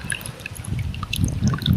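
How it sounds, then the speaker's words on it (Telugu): Water runs out of pipes, giving scattered bright drips and splashes over a low, uneven gurgling flow that swells toward the end. "పైపులు పైపులలో నీళ్ళు వస్తా ఉంటాయి"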